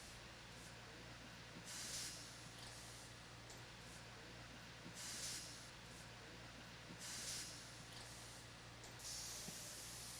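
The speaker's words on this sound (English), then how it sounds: "You can hear everything is through their air compressor." Air compressor tools hiss in repeated bursts while Pirelli tires are taken off their wheels, each burst rising over a steady background whir in a tire shop.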